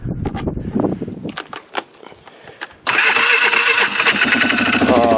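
A Sportsman 500 engine is cold-started outdoors in freezing winter weather. A few scattered clicks and knocks come first, then the engine catches abruptly and settles into a loud, steady close-up running roar.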